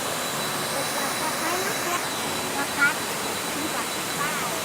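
Steady broadband rush of Khlong Yot Nam waterfall in Nakhon Si Thammarat, a continuous close wash of falling water with no break, one faint brief knock near the middle.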